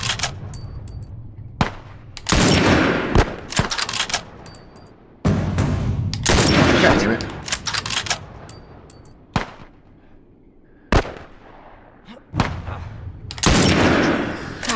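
Bursts of gunfire in The Last of Us, loud and repeated in clusters over about fifteen seconds, with short quieter gaps between volleys.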